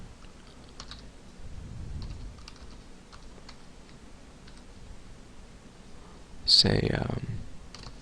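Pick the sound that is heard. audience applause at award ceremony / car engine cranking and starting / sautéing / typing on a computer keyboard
typing on a computer keyboard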